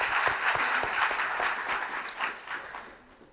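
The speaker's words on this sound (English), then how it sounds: "Round of applause, please." Audience applause welcoming panelists at a panel discussion, a steady wash of clapping that holds for a few seconds and then tapers off toward the end, with no voices over it.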